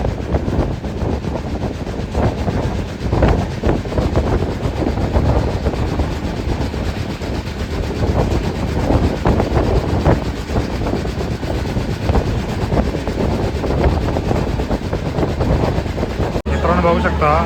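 Steady, loud rumble of the Mumbai Central to Amritsar express train, number 12903, moving with wind buffeting the microphone throughout, a continuous low roar with faint rhythmic clatter underneath.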